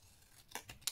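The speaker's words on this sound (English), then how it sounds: "we need some scissors to cut out" Scissors snip through a printed photo, three quick crisp cuts close to the microphone in the last half second, with no talking over them.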